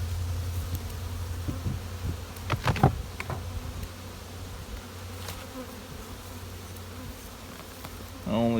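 Honeybees buzz around nucleus hives holding three and a half to five frames of bees, a steady hum with individual bees zipping close by in brief louder passes.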